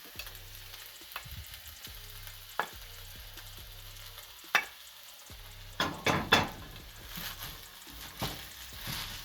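Fried rice and egg sizzle and fry in a cast iron pan, with a steady close hiss broken by scraping stir strokes and soft pan knocks, louder toward the end.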